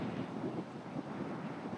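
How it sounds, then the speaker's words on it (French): Steady wind buffeting a microphone at a lakeside campsite in La Vérendrye Park, Quebec, a continuous low rushing roar with no voices. "je vais avoir du vent, là, toute la soirée"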